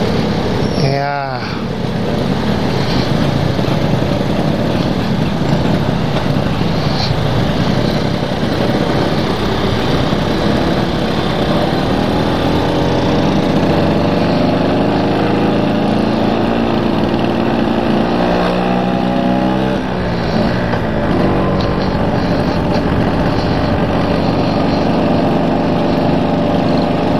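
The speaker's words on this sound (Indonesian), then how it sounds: "Wow, revonya kencang." Steady loud engine drone with a sharp rising rev near the start and another swell later, continuous mechanical roar throughout.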